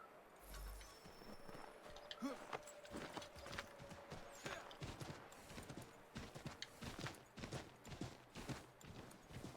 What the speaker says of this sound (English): Take my horse! Bring him here!